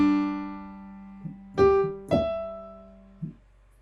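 A few piano notes ring out over a held low chord, with sharper struck notes landing near the middle and a softer one at the end.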